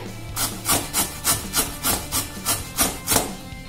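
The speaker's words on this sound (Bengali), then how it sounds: "এবার মূলোটাকে ঘষে নিচ্ছি, খুব তাড়াতাড়ি হয়ে যাবে।" Radish rubbed against a hand grater in a Bengali kitchen, about ten rhythmic rasping strokes in a steady back-and-forth pattern, close and clear with no talking.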